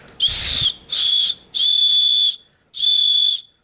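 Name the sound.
blowing a knife's built-in whistle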